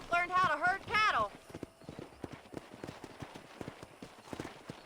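Horse hooves clip-clopping at a run in the Western video game Red Dead Redemption, a steady stream of hoofbeats that follows a horse's neigh and voiced game speech at the start.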